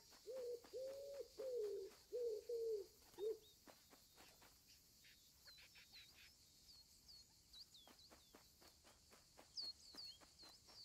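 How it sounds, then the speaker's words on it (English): An owl hoots in Alba: A Wildlife Adventure, a series of soft, evenly spaced low hoots at the start, followed by scattered clicks and faint insect chirring. "I heard an owl."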